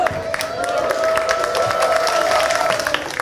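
An audience at a church sermon claps, a moderate wash of scattered hand claps that carries on steadily for a few seconds.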